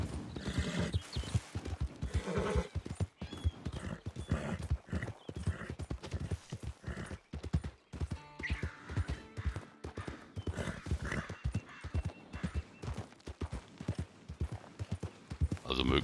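Horse hooves clip-clop in a quick, continuous gallop rhythm in Red Dead Redemption 2 online, with occasional whinnies and background game sounds, while players chat throughout.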